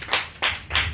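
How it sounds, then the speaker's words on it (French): Hand claps from a church congregation during a French-language sermon, three distinct sharp bursts in about a second, fairly close and without talk. "Applaudissez."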